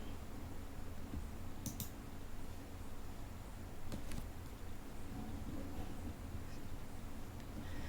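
A few sharp mouse clicks, sparse and fairly close, while a Test button is pressed during SQL Developer setup for an Oracle database connection, over a steady background hiss.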